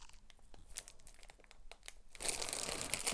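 A plastic bag crinkles and rustles during the unboxing of an EKSA wireless gaming headset, starting as scattered soft crackles and swelling into dense, louder crinkling near the end, close and without talk.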